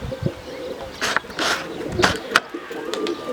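Tumbler pigeons coo in soft repeated phrases close by, mixed with scattered chirps and a few rustling or flapping sounds.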